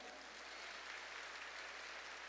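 A church congregation claps together in a steady, even wash of applause, heard from a distance at low volume for its whole length.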